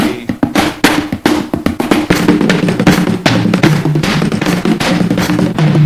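Dull, hollow thumps beaten on an empty cardboard box in a quick, steady rhythm, loud and close, with a busy backing underneath.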